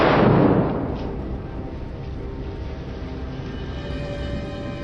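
A hunting rifle fires once at a charging wild boar outdoors, a loud close blast that decays into a long rumbling tail.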